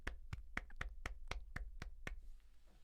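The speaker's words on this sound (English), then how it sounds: "You get a golf clap for that one." A slow, sparse golf clap of about ten soft, evenly spaced hand claps, faint and close, with no talking over it.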